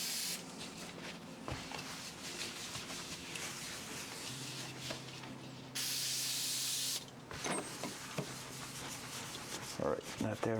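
Brake cleaner hisses from an aerosol can onto greasy engine parts in a workshop, several loud spray bursts of varying length with rubbing and handling noises between them.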